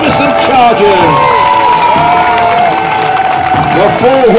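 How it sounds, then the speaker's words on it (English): A crowd cheers and whoops, with some applause, after jousting knights and their horses perform at Kenilworth Castle. The outdoor cheering is loud and sustained, with a few shrill voices rising above the mass of sound. "please give a round of applause for all four knights and their magnificent charges"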